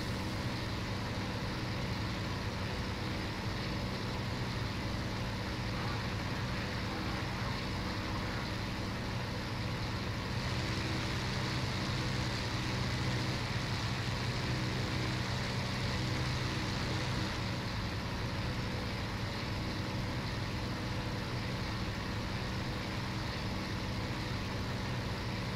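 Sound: fighter plane engine in the video game IL-2 Sturmovik

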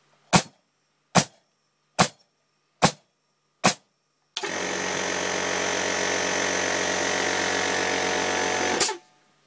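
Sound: air compressor cutting in, workshop

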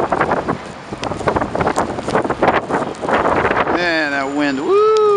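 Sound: strong wind during a snowstorm

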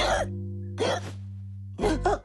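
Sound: hiccup of a cartoon character

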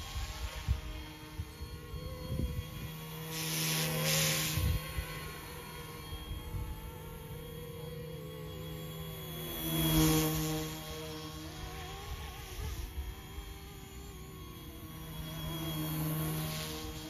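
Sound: RC model helicopter flying

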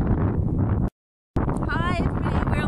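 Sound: strong wind on Outer Hebrides island

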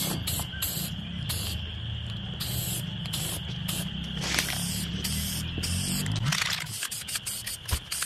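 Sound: spraying weld-through primer from a can onto bare metal

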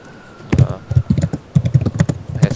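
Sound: typing on a computer keyboard

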